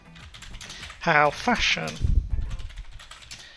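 Computer keyboard typing, set down in quick clicks near the mic while a person talks over it and text is entered for a journal page in Adobe Express.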